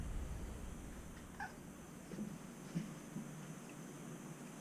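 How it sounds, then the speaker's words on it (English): A cat meows in a workshop near a workbench, giving a few faint, short calls over a steady background hum, with no voices. "Cat."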